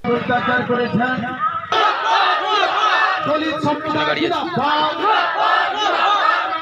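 A crowd of shopkeepers and local residents blocking a road in Tajpur shout and chant together in loud, dense, overlapping voices, with raised cries rising and falling close by throughout.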